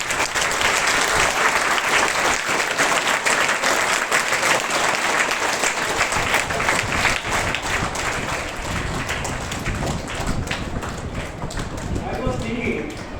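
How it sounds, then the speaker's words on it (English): A school audience of boys and girls gives a guest a loud, sustained round of applause at an academic year inauguration, dense clapping throughout, with a voice speaking over it near the end. "Please give a round of applause."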